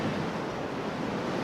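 Wind and breaking waves at sea in a force 6 northeasterly blow, a loud, steady rushing roar of surf and gusting wind over the microphone.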